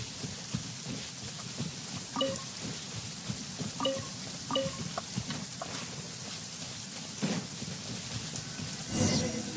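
Steady rain and rumbling thunder fill a stormy outdoor area in the video game Genshin Impact, a continuous wash of downpour with brief louder swells and a heavier gust near the end, no voices over it.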